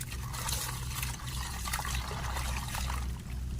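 Water pours and streams steadily on a farm, a continuous rushing trickle with low rumble underneath, fairly close and without pause for several seconds.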